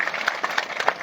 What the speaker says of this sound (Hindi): एक बार जोरदार स्वागत हम इसका करेंगे ताली बजा करके